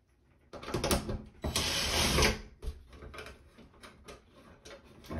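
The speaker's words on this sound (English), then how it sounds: "You unplug this, and then you'll see two screws. You'll unscrew those." Screws being unscrewed from a bathroom exhaust fan, producing close, irregular mechanical clicks and scraping ratchet-like bursts with a louder stretch in the middle, no talk.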